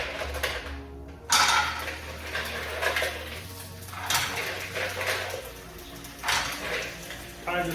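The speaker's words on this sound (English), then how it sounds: "I'm gonna start adding my mussels." Mussels go into a sauté pan of warm olive oil over medium heat, making clattering shell-on-metal knocks in several irregular bursts, close and fairly loud, over a steady low background hum.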